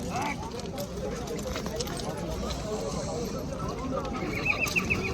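A horse neighs and hooves clip-clop at a busy livestock market where horses are traded, with loud crowd chatter and bargaining voices running over the whole stretch.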